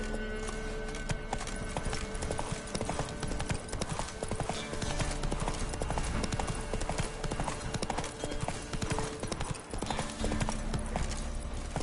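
Roach, the horse in The Witcher III, gallops at speed, dense rapid hoofbeats drumming loud and continuous over a steady game soundscape.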